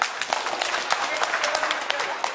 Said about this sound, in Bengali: কিন্তু এইটাই আবার জোরে হাততালি দেন।